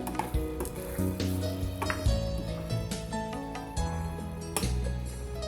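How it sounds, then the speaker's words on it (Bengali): Garam masala is stirred into a Bengali potato curry (aloo dum) in a pan. A spoon clanks and scrapes against the metal in quick irregular strokes over a steady sizzle, with no talk. "দেওয়ার পরে আরেকটু নেড়ে দিতে হবে মিক্স করে দিতে হবে"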